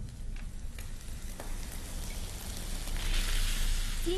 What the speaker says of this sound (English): when we fry chicken we must use high heat